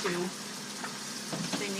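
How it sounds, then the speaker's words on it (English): Chicken fajita frying in a pan gives a steady, soft sizzling hiss in the background, with a voice speaking briefly at the start and end. "So can you hear all that sizzle in the background there?"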